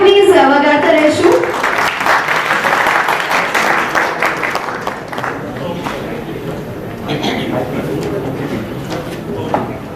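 Applause from an audience at the PLEXPOINDIA 2024 plastic exhibition launch in Rajkot, dense clapping that fills the hall for several seconds before thinning slightly, with voices and crowd noise mixed in underneath.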